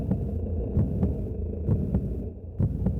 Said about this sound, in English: That sounds like a heartbeat.